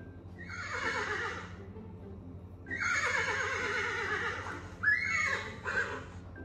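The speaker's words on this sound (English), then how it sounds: "Now, let's listen to the sound of a horse." A horse gives two long, loud whinnies, then a shorter, broken neigh, heard clearly with no talking over them.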